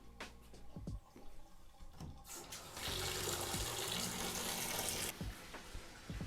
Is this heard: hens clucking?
no